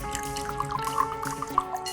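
Liquor is poured into a glass in a tense drama scene, heard as a short run of bright, trickling drips and splashes under a faint background music bed.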